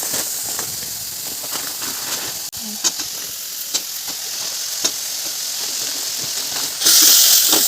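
Maggi noodles cooking in a pan with tomatoes and coriander, a close continuous sizzle with occasional clicks and stirring, growing louder and hissier at the end.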